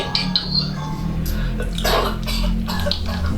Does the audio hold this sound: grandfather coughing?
yes